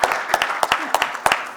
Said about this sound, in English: Let us just clap for each other and for ourselves.